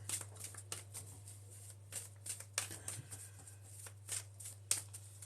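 A deck of cards is shuffled for a card reading: soft, quiet riffles and snaps come in irregular bursts over a low, constant hum.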